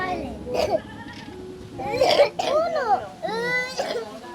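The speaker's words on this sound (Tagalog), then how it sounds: "lahat umuubo na" Several harsh coughs break out in bursts, mixed with voices and strained, wavering vocal sounds nearby.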